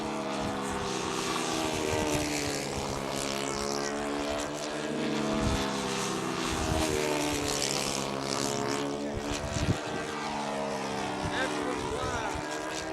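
A Windy U Master model aircraft with a buzzing propeller engine flies at a model-aircraft nationals event, droning steadily for several seconds while people talk nearby.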